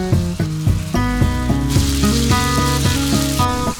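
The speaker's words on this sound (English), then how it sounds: "Cooking some beef as well." Beef sizzling in a pan in a home kitchen, a steady close crackle and hiss under a continuous musical backing.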